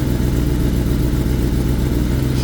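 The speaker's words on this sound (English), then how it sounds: "Listen to the sound of the bike." A Kawasaki ZX10R sport bike with low oil pressure runs nearby with a rough, loud engine drone and dense low chugging pulses throughout.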